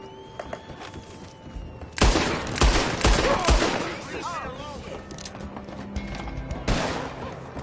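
Gunfire in the video game Red Dead Redemption 2: loud sharp shots crack in separate bursts, with hoofbeat-like clatter and a mixed battle din carrying on between them.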